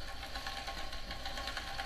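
Portable under-desk pedal exercise bike with a magnetic resistance unit pressed against the rear wheel, spinning steadily with a continuous whirring drone and fine mechanical rattle, close and even throughout.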